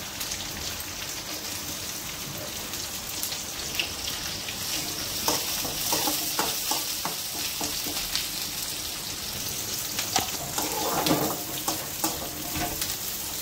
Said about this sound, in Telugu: ఉల్లిపాయ ఎర్రగా వేగాలి